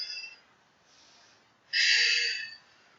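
Breathing during a Pilates twist exercise, a faint soft breath followed by a louder, rushing exhale about a second long, close and alone.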